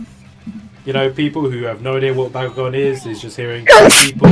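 A single loud, close sneeze bursts out at the end of a stretch of casual talk between people streaming a Bakugan game.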